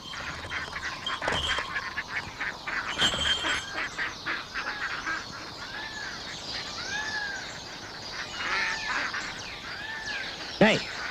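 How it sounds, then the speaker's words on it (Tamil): A flock of ducks quacks and honks in a busy overlapping chorus, with frequent calls close by and a sharper squawk near the end. "வாத்து கூட்டம்"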